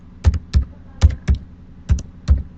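Computer keyboard keys clack in a quick, uneven run of about seven close, crisp strokes, grouped in pairs, during a software tutorial with no other sound beneath them.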